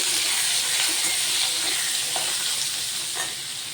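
Paneer fries in a pan with a loud continuous hiss and crackle of oil, an occasional clink of stirring, and the sizzle easing slightly toward the end.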